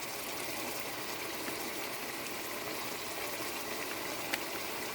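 Steady sizzling of food frying in a pan with paprika, a continuous hissing crackle at moderate level with no talk.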